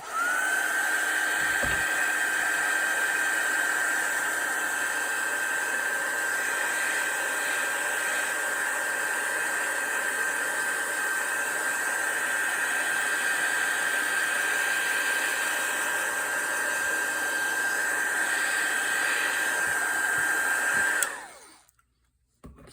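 A hair dryer blows steadily and loudly at close range over an art journal page, a constant airy whine holding for about twenty seconds before it clicks off and cuts to silence.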